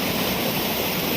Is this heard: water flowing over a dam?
yes